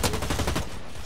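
Gunfire in the video game Blacklight Retribution, a shooter where a shotgun is in use: a quick string of loud, closely spaced shots in the first half second, tailing into a dense, fading rumble.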